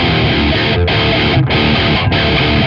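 Heavily distorted metal guitar tone dialed in on a Headrush amp modeler, loud and dense, chugging chords with three brief gaps between phrases.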